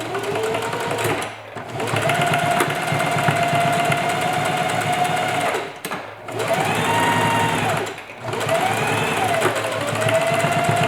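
A sewing machine stitches a strap along the shirring rows of a sundress, a loud, close, steady mechanical whir in long runs broken by three brief pauses as the stitching stops and restarts.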